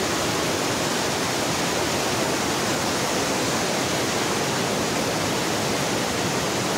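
A powerful waterfall near Lago Pirihueico in the Chilean Patagonian cordillera roars as a dense, constant broadband rush of falling water, close and loud without letup or any voice.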